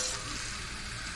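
Water poured into a measuring cup of powdered drywall compound for a five-minute setting mix, a steady hissing pour running alone for about a second.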